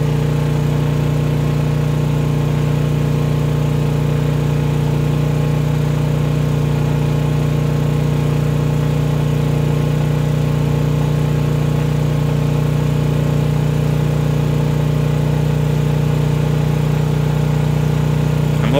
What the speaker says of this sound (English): this thing goes for like a few minutes and then all of a sudden it starts to hunt around for the proper RPM